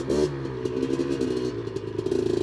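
A Honda 250R engine idling and running nearby, giving a steady buzzing two-stroke drone with a slight rise and ripple in revs near the end.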